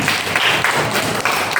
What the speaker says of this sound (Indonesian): Mantap, tepuk tangan untuk kita semua.